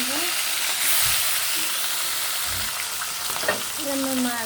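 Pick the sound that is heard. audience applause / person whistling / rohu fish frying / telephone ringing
rohu fish frying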